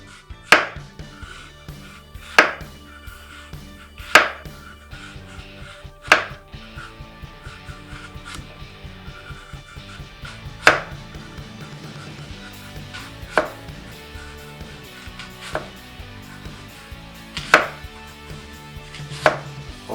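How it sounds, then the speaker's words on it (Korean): A knife slices a whole apple vertically on a cutting board in sharp, isolated chops spaced a second or two apart, with quiet pauses between each cut. "사과는 씨를 빼지 않고 바로 세로로 통으로 썰어줄게요"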